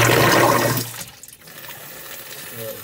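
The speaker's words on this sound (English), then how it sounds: "in both cases, you'll hear the pumps operate. So here we go on the primary pump." A primary sump pump kicks on after its float is raised, giving a loud rushing gush of water for under a second before dropping to a quieter residual trickle and hum.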